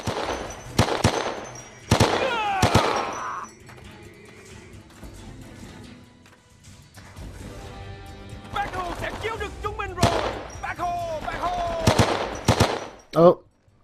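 Gunfire in the Men of Valor Vietnam War game: scattered loud bursts and single shots, with a quieter stretch in the middle, mixed with game voices and other battle noise.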